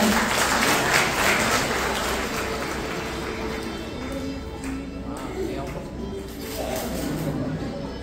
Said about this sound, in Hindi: अपने लिए जोरदार तालियां बजाओ